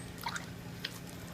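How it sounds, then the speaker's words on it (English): Wet hands kneading taro poi with added water, producing faint squishy, dripping liquid sounds with a couple of small wet splats. "The first step is adding just a fistful of water at a time and kneading in the water"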